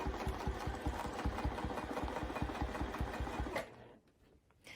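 Sewing machine quilting a swirl pattern on a baby quilt, running in a fast, steady rhythmic whir with regular needle pulses, close and clear, then stopping abruptly near the end.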